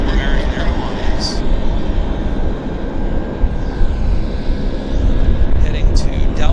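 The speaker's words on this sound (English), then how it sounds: "Yeah, it's a 737 MAX 8." A Boeing 737 MAX 8 airliner at Vancouver Airport gives a loud, continuous low engine roar, with a person talking over it.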